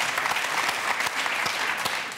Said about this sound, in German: Klatschen die Zuschauer jetzt wegen Feiertag oder wegen Internationaler Frauentag?